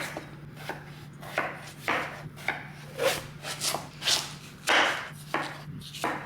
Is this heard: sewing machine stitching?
no